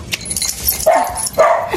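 A dog barks twice in close succession, with whimpering in between, sounding near and fairly loud against a faint background jangle.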